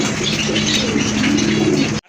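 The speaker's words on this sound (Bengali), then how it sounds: "শাটিন কবুতর, জর্ডা শাটিন টপ ক্লাস এক জোড়া কবুতর" Satin pigeons coo continuously at close range, low throaty calls over a busy background hum, stopping abruptly at the end.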